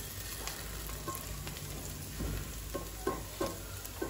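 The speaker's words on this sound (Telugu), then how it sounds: "కొంచెం చక్కగా ఫ్రై అవ్వాలి." Food fries in a pan, a faint, steady sizzle with occasional soft stirring clicks and scrapes.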